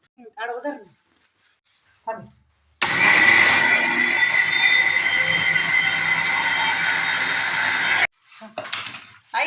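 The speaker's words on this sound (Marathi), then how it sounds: "चला आता मी मिक्सरमध्ये बारीक करून घेते" A mixer grinder grinding moth bean lentils whirs loudly for about five seconds, a steady high-pitched grinding roar, with brief speech before and after it.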